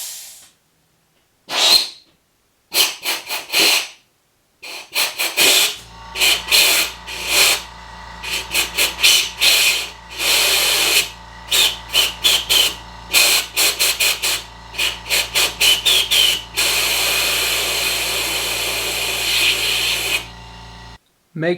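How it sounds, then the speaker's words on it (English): Compressed air from a small compressor is blown through plastic drain tubing on a Volvo V50 with wet carpets. Repeated sharp hissing blasts of varying length sound over a steady low compressor hum, ending in one long continuous rush of air. "I'm going to blow compressed air through here"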